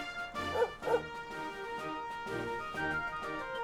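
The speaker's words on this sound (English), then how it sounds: "That means woof woof in Japanese." A dog in the video game Dragon Quest XI gives a couple of quick barks close together, then softer yips follow over a steady game music backdrop.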